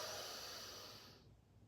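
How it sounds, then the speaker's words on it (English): Deep breath drawn in during a Pilates breathing exercise, one long close airy inhale that fades out over about a second. "Last time, inhale"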